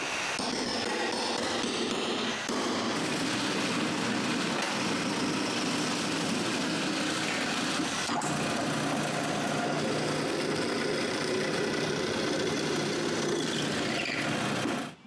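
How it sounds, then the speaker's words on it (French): A power drill bores bolt holes in wood during a patio repair, a continuous close whining motor with gritty cutting texture that runs steadily for about fifteen seconds before stopping abruptly. "Après avoir marqué l'endroit où percer les trous des boulons, je les perce."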